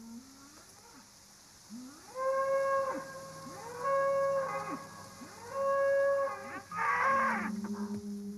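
An ancient semi-wild cattle breed lows in three long, deep, drawn-out moos, each rising and falling, fairly close over a quiet background.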